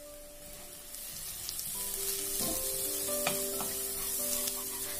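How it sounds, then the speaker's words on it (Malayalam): Onions sautéing in a pan with garam masala, chili powder and turmeric give a steady soft sizzle, with occasional scrapes and clinks of a spoon stirring, fairly quiet and without talk. "ഇനി ഇതെല്ലാം നമുക്ക് നല്ലപോലെ ഒന്ന് വഴറ്റിയെടുക്കാം"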